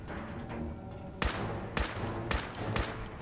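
Rapid gunfire from a faster-firing weapon in the Fallout 4 video game, aimed at a super mutant, comes as four sharp bursts spaced about half a second apart over a rumbling game background.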